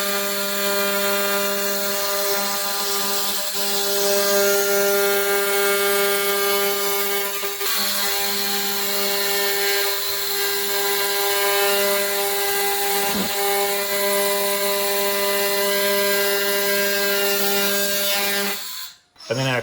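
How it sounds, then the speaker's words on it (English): A laser cleaner strips rust from steel with a steady, loud tonal buzz and crackling hiss that holds continuously for nearly twenty seconds before abruptly cutting off. "This is actually my first time using a laser to clean rusted steel."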